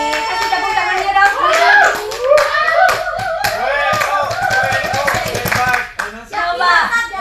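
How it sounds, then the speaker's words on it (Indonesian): Clapping from a class of children during a school teaching session, sharp uneven claps mixed with loud overlapping children's voices and an adult talking throughout. "Kasih tepuk tangannya dong."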